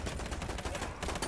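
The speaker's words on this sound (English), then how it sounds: "someone's shooting at me." A quick flurry of video game gunfire in a shooter featuring the Martini Henry rifle, dense and continuous for about a second with no talk over it.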